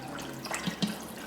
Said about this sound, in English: And here comes my 3 cups of water.